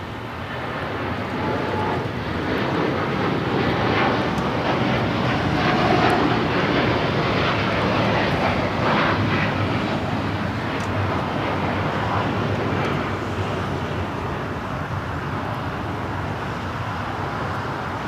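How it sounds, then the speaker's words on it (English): A United Boeing 787 Dreamliner, flight 801 bound for Hong Kong, rolls and takes off at LAX with a loud, steady jet engine roar that holds strongly throughout, broad rumble and whine with no talk. "We have the United Dreamliner now rolling. It's flight 801 taking off to Hong Kong."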